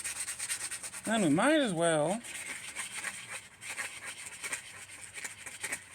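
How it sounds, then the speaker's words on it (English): Scraping a sticker off a copper pipe makes a steady, close rubbing rasp that runs throughout, with a brief sung or hummed tone and some talking over it. "I'm trying to get the sticker off of this pipe."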